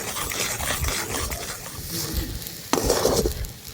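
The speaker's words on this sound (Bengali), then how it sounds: "এইভাবে নাড়াচড়া করতে করতে একটা দইয়ের পর্যায়ে চলে আসবে" A spoon works semolina batter in a pot on the stove for chusi pitha, a soft continuous scraping and slushing with faint sizzling and a brief clink of utensil against metal near the end.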